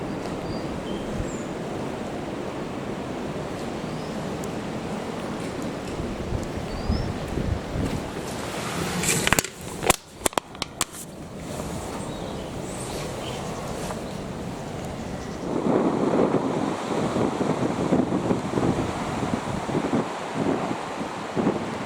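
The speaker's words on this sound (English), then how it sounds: "Tide is incoming. There's quite a bit of movement on the water here," Waves moving on open water as the tide comes in, a steady broad wash of surf with heavy wind buffeting the microphone, briefly interrupted by a few sharp gusty bumps before the churning water swells louder again.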